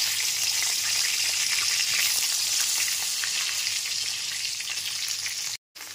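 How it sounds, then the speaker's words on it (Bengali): Eggplant pieces sizzle steadily in hot oil in a pan over a medium gas flame, a close, continuous crackling fry that briefly cuts out near the end. "বেগুনের টুকরোগুলোকেও ভেজে নেব"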